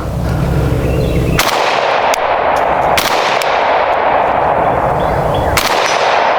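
An AK rifle fires at a target, one sharp, loud report at a time with roughly a second between shots, each followed by a long ringing decay outdoors.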